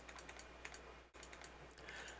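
Rapid, faint clicking during computer gameplay, a quick irregular run of light taps repeating through the whole moment, with no talk over it.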